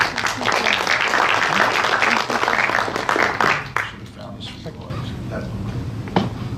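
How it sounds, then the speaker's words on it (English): An audience at a transportation technology breakout session applauds the introduction of an assistant commissioner. The dense clapping lasts several seconds, then fades into room noise with a few scattered claps. "Let's give him a big round of applause"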